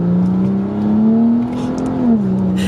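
A BMW 335i with the N55 engine, M-Sport kit and FBO tune, under way with a steady, loud engine drone that rises and falls, with faint crackles and pops over it.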